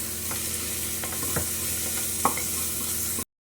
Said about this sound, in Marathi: चौथा कांदा लसूण मसाला चार चमचे घालते सर्व हलवून घ्यायचं आहे